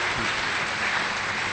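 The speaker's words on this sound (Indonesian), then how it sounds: "Kita bagi tepukan untuk Ketika Cinta Bertasbih" Audience applause in a Malaysian celebrity talk-show studio for the Indonesian film Ketika Cinta Bertasbih, a dense, steady wash of clapping filling the short moment without a break.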